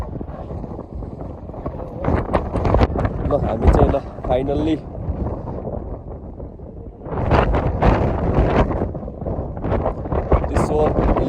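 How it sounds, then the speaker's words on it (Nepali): Strong wind buffets the microphone on a high mountain route toward the Hilsa Nepal-China border in Humla, a gusty rumbling roar that swells and fades under someone talking throughout. "अहिले हावा पनि एकदम चलिरहेछ है।"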